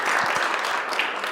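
Audience at a business breakfast gives a round of applause, dense steady clapping from many people, close and sustained through the whole moment.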